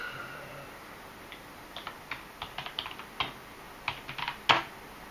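Keys clack on a wireless keyboard in a series of irregular, fairly close taps, with a sharper strike near the end, over a quiet background hiss.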